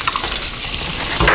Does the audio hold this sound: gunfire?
no